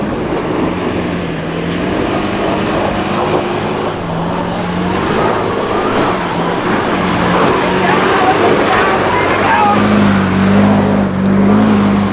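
A 4x4 revs hard while attempting a greasy, slippery hill climb on a high-country track, its engine droning steadily and rising toward the end, with people talking and shouting over it.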